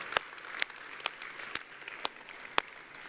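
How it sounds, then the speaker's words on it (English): Applause from a church congregation, scattered and fairly light, with about six sharper individual claps standing out at a steady pace over a soft background of hands. "I think we should give her a big round of applause"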